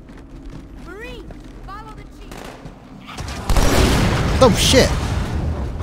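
Gunfire and a rocket launcher explosion in the Halo 2 video game: a few synthetic calls first, then a loud burst of gunfire and blast noise in the second half, with a person exclaiming over it.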